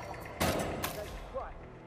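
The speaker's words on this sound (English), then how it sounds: "gun-toting idiot is discharging a firearm." Gunfire in the video game Hitman 3, two sharp loud bursts close together, followed by fainter rattling and game dialogue in the background.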